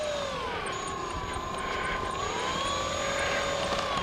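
A radio-controlled model F4F airplane on its maiden flight, its engine droning steadily at a distance, with the pitch rising and falling as the plane passes overhead.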